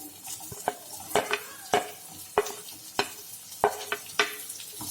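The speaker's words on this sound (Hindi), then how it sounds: "अभी हम इसके अंदर प्याज डाल देंगे" Onions sizzle steadily in a hot pan over medium-high flame, added after garlic and ginger, while a spoon stirs and scrapes in repeated sharp strokes, close and fairly loud, with no talking.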